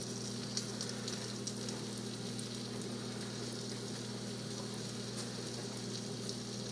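Country fried steak frying in an electric skillet, a steady, even sizzle with a low hum underneath, continuous and close throughout.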